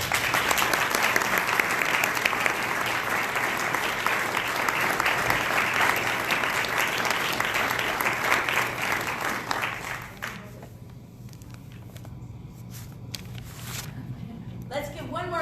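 A full room applauds at an awards presentation, with dense, even clapping for about ten seconds that then thins into scattered claps and a quieter room.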